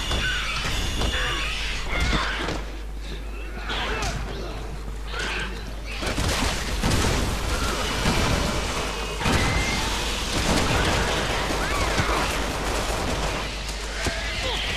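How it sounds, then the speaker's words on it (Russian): Rapid gunfire and weapon bursts in the co-op action game Resident Evil 6, dense and continuous throughout with crashing impacts, mixed with game effects and occasional talk. "Такая стрельба идет."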